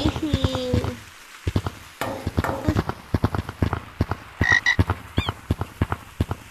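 A frog croaks in the video game Gorilla Tag, a rapid series of loud, close, rattling pulses in uneven bursts, with a brief pause early on and a short higher chirp midway.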